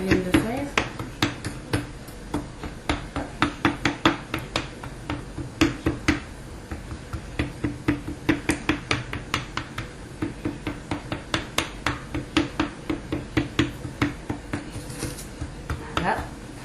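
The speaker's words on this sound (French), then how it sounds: "je prends la fourchette pour faire des trous dans la pâte pour que ça puisse s'aérer" Fork pricking holes in almond tart pastry dough, a rapid run of light, close taps against the dough and pan, steady and rhythmic, with a voice speaking over it.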